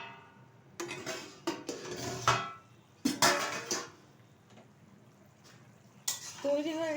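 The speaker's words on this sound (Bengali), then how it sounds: "ঢাকনাটা তুলে দিচ্ছি।" A lid comes off a pan of oil-cooked prawns with a few clanks of metal on metal, followed by scattered clinks and brief scraping against the pan, between quieter pauses and over faint kitchen background.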